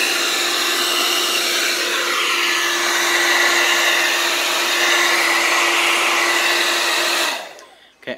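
A hair dryer blows hot air onto the circuit boards of an opened Sanyo TV, a loud, steady, close whoosh with a constant motor hum for about seven seconds before it cuts off, with no talk.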